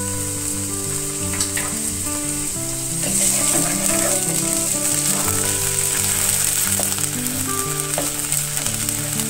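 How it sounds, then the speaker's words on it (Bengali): Chopped onions sizzle steadily in a hot pan with ginger garlic paste, frying for a restaurant-style paneer butter masala; a continuous close, loud sizzle with faint stirring scrapes and no talk. "এবার আমি এতে একটু জিঞ্জার গার্লিক পেস্ট দিয়ে ভালো করে পাকিয়ে নেব"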